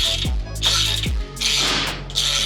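Ratchet clicking as a large wheel nut on a brand new Sport Chief breaks free and backs off, two quick bursts of sharp pawl clicks up close, alone without talk.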